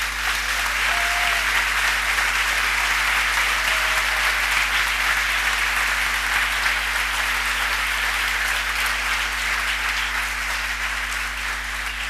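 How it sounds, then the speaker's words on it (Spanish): Church congregation applauding during a Sunday service, a dense, steady wash of clapping that holds loud and even for the whole stretch, with a constant low hum beneath it. "Denle un aplauso a Cristo si le gusta."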